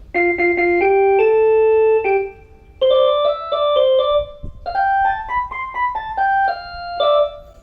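Bright electronic keyboard notes, played through a pushcart sound system for a brass band, form a simple melody in short phrases, clear and close, with brief pauses between groups of tones.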